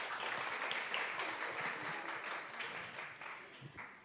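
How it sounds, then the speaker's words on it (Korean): An audience at a roundtable event on gender equality applauds to welcome a speaker, a dense crowd of clapping that gradually fades toward the end, heard at a moderate distance. "박수로 환영해 주시기 바랍니다"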